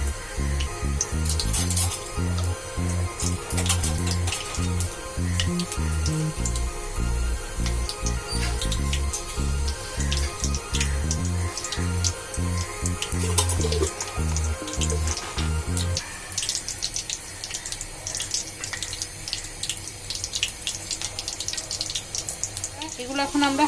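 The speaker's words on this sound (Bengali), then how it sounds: "এগুলো এখন আমরা হাই হিটে ভেজে নিচ্ছি" Potato singaras deep-fry in hot oil over high heat, a dense, continuous bubbling sizzle with crackling pops running throughout, a voice speaking over it part of the time.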